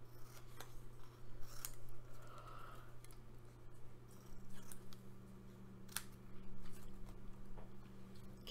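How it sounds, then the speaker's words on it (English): Scissors snip out a paper circle for a collage, a string of quiet, close crisp cuts in an irregular rhythm over a low steady room hum, no talk. "and I'm just going to cut this circle out."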